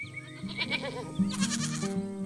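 A white goat in a farm pen near a red barn gives a couple of loud, wavering bleats close by, with an animated farm setting behind it and no one talking.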